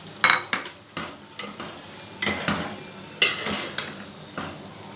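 Spice masala for spicy okra (bhindi) curry frying and being stirred in a pan: repeated scraping stir strokes about once per second over a soft sizzle, close and moderately loud, with no talking.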